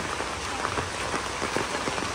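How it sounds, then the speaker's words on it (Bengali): Heavy rain pours steadily outdoors at a family home in a village, a dense continuous hiss of drops on surfaces with scattered louder patters, no voices. "অনেক জোরে বৃষ্টি পড়ছে তো ভিজে যাচ্ছে।"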